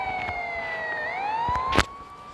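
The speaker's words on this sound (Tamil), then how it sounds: "சைரன் ஓடிட்டு வராங்க." A police siren wails in the Indian Theft Auto video game, a steady tone that bends and sweeps upward, with a sharp bright burst near the end and no voices.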